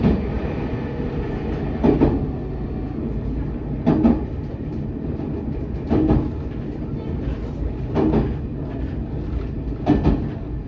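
A Chuo West Line train bound for Inakita rolls along with a steady rumble inside the car, punctuated every two seconds or so by a rhythmic clack of wheels over rail joints.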